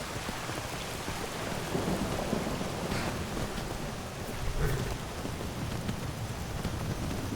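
Steady rain pours down in Skyrim, a dense continuous hiss with low rumbling thunder beneath, at an even level throughout with a slight swell partway.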